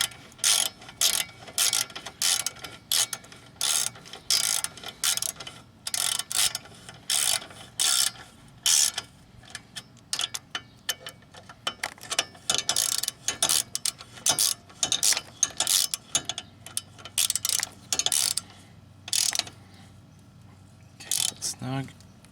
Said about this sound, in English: we take our 15 ratchet, tighten down the rest of the way.